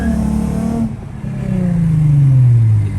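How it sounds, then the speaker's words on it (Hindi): A Honda Civic FD2 Type R with stainless steel piping and a branded exhaust revs hard up close, a loud, smooth engine note climbing steadily in pitch and holding near the top. "स्टेनलेस स्टील पाइपिंग और ब्रांडेड एग्जॉस्ट का यही फायदा है कि आपकी ना बड़े स्मूथ किस्म की आवाज़ आती है"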